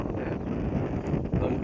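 Dry wind blows steadily outdoors, a continuous low rushing roar buffeting the microphone with faint rustles, no clear voices over it.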